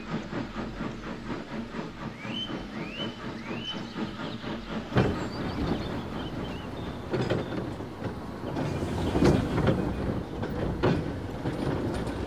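Steam goods train running on rails on an island railway, with steady rhythmic clattering of wheels, a few high whistle-like tones, and a rumbling hiss that grows louder later on.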